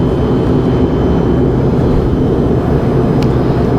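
A Star Air Embraer regional jet cruises over India, heard from inside the cabin as a loud, constant broadband drone with no break.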